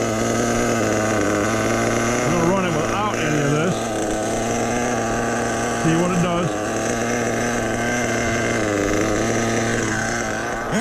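Truck engine idling at a steady, low rumble close by, running continuously with a constant hum while a voice talks intermittently over it.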